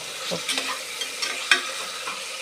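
Tomatoes sauté with salt in a pan, a soft, low sizzle under a few light spatula scrapes and taps spread over a couple of seconds.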